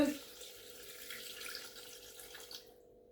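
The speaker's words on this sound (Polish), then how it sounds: "wlewamy teraz, żeby nie było gadania, wlewamy 350 g wody" Water, 350 g of it, pours into a Thermomix bowl in a kitchen, a soft, steady splash that trails off and stops after a few seconds.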